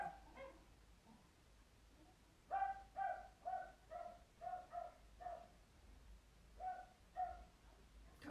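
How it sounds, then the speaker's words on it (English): A dog barks in a series of short, sharp woofs in irregular bursts, fairly faint and at some distance, with quiet gaps between the barks. "I'll try and speak in between the barking dog."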